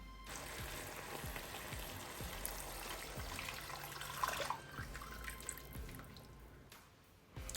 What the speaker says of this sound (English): And then now we're going to pour it into the pot.